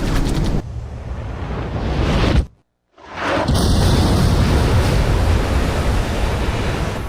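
Missiles strike a warship in Ace Combat 5, a heavy roaring rumble that cuts to brief silence before a second broad, booming blast of noise swells and sustains loudly.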